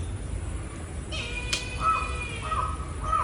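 Two cats waiting for fish in a home yard give a few drawn-out meows partway through, moderately loud over steady outdoor background noise.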